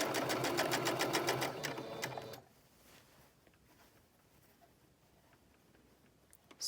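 A sewing machine runs steadily along a fabric seam with a rapid, even needle rhythm for about two seconds, then stops, leaving only faint room noise.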